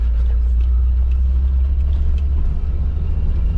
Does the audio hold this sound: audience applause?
no